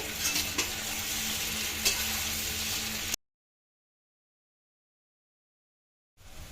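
Cut bottle gourd muthiya being stirred in a pan with curry leaves, a steady scraping and sizzling for about three seconds, then silence before a brief return of the sound.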